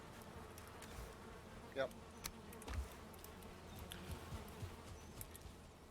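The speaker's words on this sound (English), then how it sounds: "I think my bees can go out here" Bees buzzing around a beehive in the game Valheim form a faint, steady insect hum, with a few brief clicks and one short spoken word from a person.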